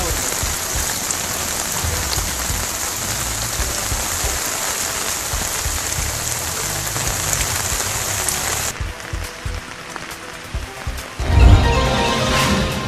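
Heavy, unbroken rain pours down in a dense, steady hiss for the whole stretch, with the texture shifting partway through as if falling on different surfaces, and a brief louder patter near the end.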